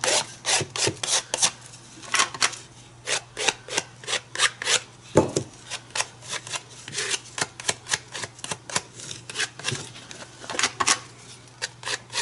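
A palette knife scrapes paint across a painting's surface in short, repeated rasping strokes with an irregular rhythm, close and fairly clear, with no talking.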